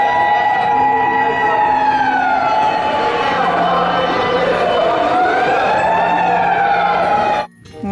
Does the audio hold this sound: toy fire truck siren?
yes